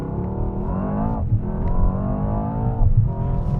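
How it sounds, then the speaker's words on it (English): Mercedes S63 AMG sedan accelerating hard from a launch-control race start, a loud, close engine roar climbing steadily through the gears with two brief dips at the shifts and no talking. "That was launch control in the Mercedes S63 AMG."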